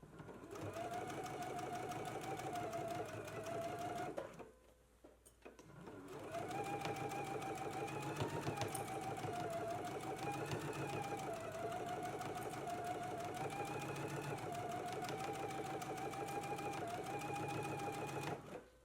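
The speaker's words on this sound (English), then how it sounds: "let's go ahead and go to the sewing machine, and you want to stitch right along your line." A sewing machine stitches a pinned tuck along a dart line, running in a fast, steady mechanical whir for several seconds, pausing briefly, then resuming for a long continuous run.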